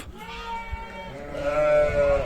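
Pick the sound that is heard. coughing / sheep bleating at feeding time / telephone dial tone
sheep bleating at feeding time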